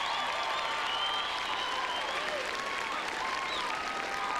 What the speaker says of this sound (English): How much do you own when they clap for you like that?